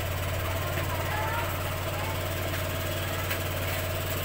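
Honda Click scooter engine idling after starting, a steady close-up mechanical hum with a fast rhythmic chug, continuous and alone.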